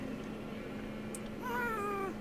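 A Minecraft cat gives a single clear meow near the end, rising then falling in pitch, heard alone over a faint steady background hum.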